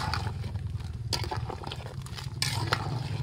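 Stirring a pot of sopas (macaroni soup) after seasoning cubes and pepper go in: a spoon scrapes and clinks against the pot in repeated strokes over a steady low simmering rumble, close and moderately loud.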